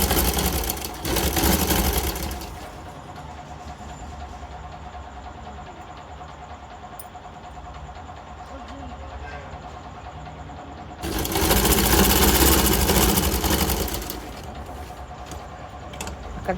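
A sewing machine runs in two loud bursts of stitching through fabric for blouse piping work, with a quieter steady mechanical hum between them.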